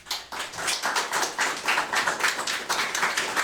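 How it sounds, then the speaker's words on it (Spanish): A church congregation claps in rhythm, steady repeated hand claps that build and continue evenly throughout, fairly close and full, with no talking over them. "Dale un aplauso a Jesús."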